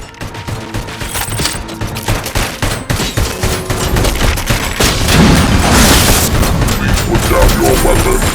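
ED-209 unloading sustained gunfire in Robocop: Rogue City, loud rapid bursts of automatic shots hammering on and building into a heavy barrage, with a voice speaking over parts of it.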